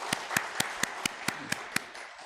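A church congregation claps in unison, giving glory to God after a mission trip report, with evenly spaced sharp claps, about eight in a steady rhythm, faint and slightly distant.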